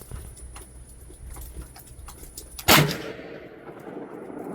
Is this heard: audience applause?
no